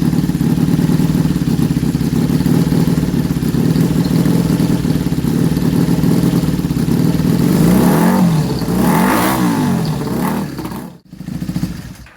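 A Honda Superdream motorcycle engine on its original, mismatched carburettor jetting runs rough and loud and steady for about eleven seconds, with a rising rev swell near the end before it cuts off briefly and picks up again.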